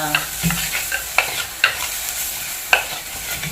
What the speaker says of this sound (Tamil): இஞ்சி பூண்டு பேஸ்ட் வந்து நல்லா வதங்கிடுச்சு